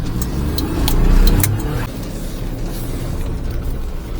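A micro van's engine drones loudly at about 80 mph, swelling briefly as it pulls harder before settling into a steady roar with road and wind noise.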